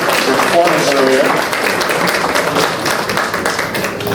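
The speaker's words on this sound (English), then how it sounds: "So another warm round of applause for her." Audience applause for a musical performer at a community cultural exchange event, a steady wash of clapping that runs under an announcer's voice throughout.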